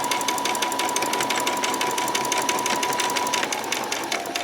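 A sewing machine runs continuously while back stitching fabric for a peasant top, giving a fast, steady mechanical whir and rapid needle patter throughout with no speech.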